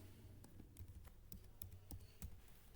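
Computer keys tap in quick irregular bursts, close and fairly quiet, a short run of typing ending with the Ctrl+S save shortcut, no voices.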